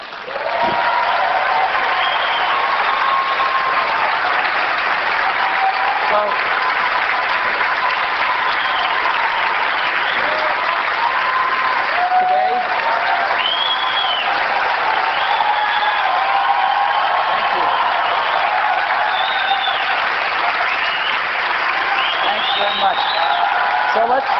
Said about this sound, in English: It's a lot of applause when you guys do all the work.